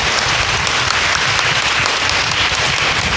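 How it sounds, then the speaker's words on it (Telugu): A church congregation claps loudly and steadily together, a dense wall of hand claps holding at full volume throughout. "గట్టిగా ఒకసారి చప్పట్లు కొడదాం దేవుడికి గట్టిగా."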